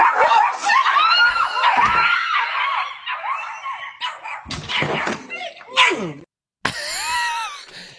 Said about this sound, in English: That was a little dog.